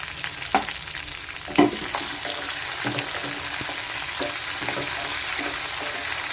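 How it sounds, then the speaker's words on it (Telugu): Tomatoes fry in hot oil with curry leaves and seeds for ponnaganti kura pachadi, a loud continuous sizzle with repeated soft scraping strokes from stirring, close by. "ఇప్పుడు టమాటాలు వేసేస్తున్నాను"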